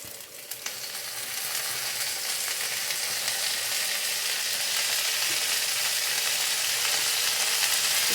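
Green chillies, coriander, mint and fenugreek leaves frying in hot oil for a mutton curry, a loud continuous close-up sizzle that swells after the first second and holds steady, with no voices.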